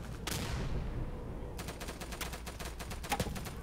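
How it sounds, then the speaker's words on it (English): Gunfire in the WWII shooter Day of Infamy: a loud shot followed by a decaying echo, then a rapid burst of repeated shots and a few louder cracks near the end, heard close against a constant low battlefield rumble. "Someone's shooting at me."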